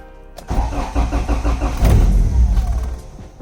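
A Honda Civic's engine cranks briefly, then catches and starts, settling into a rough idle with a short rev, loud and close.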